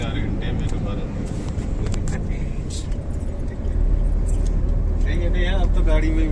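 Inside a moving car, a low road rumble and engine hum run throughout, growing heavier partway through, with people talking and small items jingling over it.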